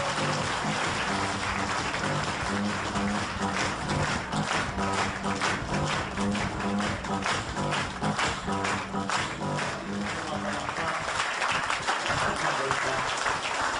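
A meeting audience gives sustained, dense applause to welcome Nestor Gonzaga, steady and loud throughout with a faint tonal hum underneath.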